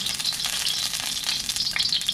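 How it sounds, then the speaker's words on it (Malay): Hot onion oil sizzles and crackles in a wok, a continuous close hiss with small pops. "Dalam kuali yang panas, masukkan minyak bawang"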